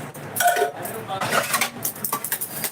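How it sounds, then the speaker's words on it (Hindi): Utensils being scrubbed and washed by hand, with pots, pans and cutlery clinking and clattering in short bursts close by while people talk. "आप लोग को कैसा लगा हमारा बर्तन मांजना"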